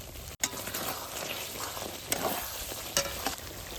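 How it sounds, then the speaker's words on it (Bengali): Chicken masala sautés in oil with turmeric and salt, making a steady, moderate frying sizzle with occasional sharp stirring scrapes against the pan. "দেখুন সমস্ত মশলা দিয়ে ভালো করে কষিয়ে নিয়েছি, দেখুন কি সুন্দর তেল বেরিয়ে গেছে।"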